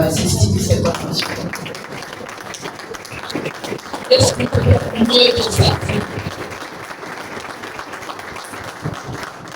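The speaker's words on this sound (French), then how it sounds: "Est-ce qu'on peut d'abord applaudir pour assister à cette formation?" A crowd applauds at an evening youth gala, the clapping rising and falling throughout while someone speaks loudly into a microphone over it.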